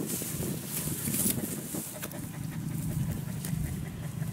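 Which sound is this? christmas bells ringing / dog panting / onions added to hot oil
dog panting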